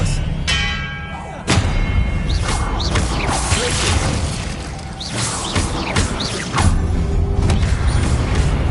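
Spell-casting effects in the Hogwarts Legacy video game: a sudden thump followed by several whooshing swishes and ringing, bell-like tones, fairly loud and busy, with a sharp impact near the start.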